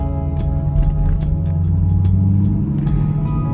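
A Chevrolet Camaro SS cruises along with a deep, steady engine rumble and low road noise, close and continuous, with a few light clicks over the drone.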